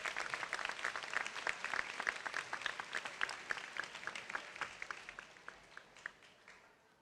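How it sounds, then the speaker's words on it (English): Sustained applause from a crowd at a high school moving-up ceremony for award recipients, dense steady clapping that gradually thins toward the end, with no talking over it. "let's give a round of applause to all of our award recipients."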